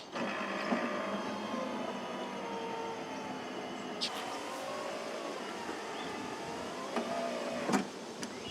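Electric power window motor lowering the door glass on a third-generation Camaro, a steady whirring drone running throughout with a few brief clicks and knocks as the glass travels down and reaches its stops.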